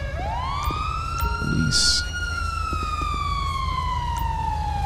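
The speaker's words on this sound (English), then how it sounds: "Let's get my lights off, my sirens off over here." Police car sirens wailing in the GTA 5 LSPDFR video game, a loud steady siren tone sweeping up and then slowly gliding down, with a brief hiss and a short spoken word partway through.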